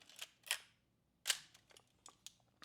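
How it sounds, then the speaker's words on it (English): A Nikon FM2 film camera's mechanical shutter firing, two crisp close clicks with a soft mechanical rattle between them, followed by a few lighter clicks. "Mechanical shutter."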